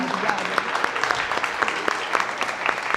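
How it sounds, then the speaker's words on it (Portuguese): An audience at a book interview and signing event claps, uneven bursts of hand claps over a murmur of crowd voices, fairly loud and close. "Uma salva de palmas, Ari."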